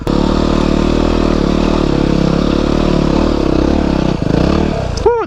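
A Yamaha WR250R motorcycle engine drones loudly and steadily from close by, a sharp rev and a brief clatter rising near the end as the bike lifts into a wheelie.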